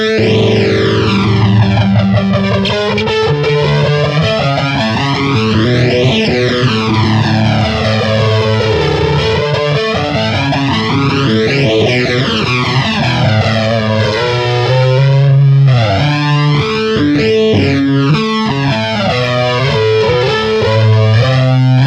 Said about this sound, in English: Again, really high quality phaser effect, really big, thick sound.